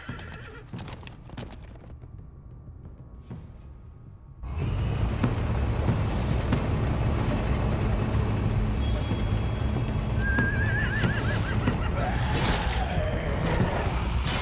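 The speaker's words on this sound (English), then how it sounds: "I don't know how they decided on horses" Horses neigh and whinny with clip-clopping hooves in The Walking Dead: A New Frontier video game, a loud dense scene that kicks in after a quieter opening, with rising whinnies standing out near the end.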